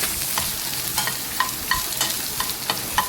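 Large onions sautéing in a pan, a steady sizzle broken by regular scraping stir strokes, close and fairly loud.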